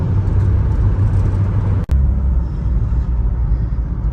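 Steady low rumble of a car cruising along an open highway in New Zealand, engine and tyre drone continuous and close, with one brief sharp click or bump near the middle and no talking.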